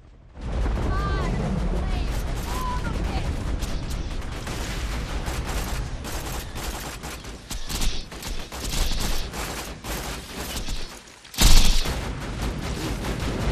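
Automated turret gunfire in Borderlands 2's Tiny Tina's Assault on Dragon Keep, rapid sustained bursts among other weapon fire and booms, with a player talking over the action.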